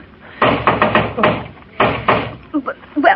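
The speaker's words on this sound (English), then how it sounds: "Well, open the door and see what he wants, Dag Cratchit." Knocking on a door in a 1939 radio drama, Blondie's Christmas Scrooge episode: two sets of firm, closely spaced raps, a few knocks each, loud and near, followed by brief voice sounds.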